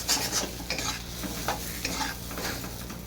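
A kalai dal filling sizzles in a frying pan while a utensil stirs and scrapes it in repeated close strokes over a steady frying hiss.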